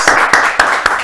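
Four sharp, evenly spaced hand claps ring out loud and close in a studio, each a brief bright crack over a quiet background.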